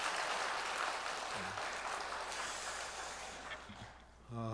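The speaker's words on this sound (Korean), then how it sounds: "박수 쳐주시려면 힘있게 쳐주세요" A congregation claps at a Korean early-morning church prayer service, a brief, fairly faint burst of applause that fades out, followed by a short vocal sound at the end.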